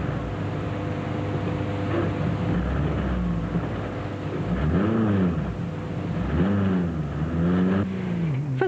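Off-road race vehicles such as a Toyota Hilux at the rough Rustenburg 200 off-road race in 2004, a steady engine drone with two loud revving passes rising and falling, fairly close, no voices.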